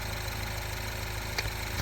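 A Mini Paceman's engine idles steadily, a continuous close rumble with an even throb and one brief rattle near the end.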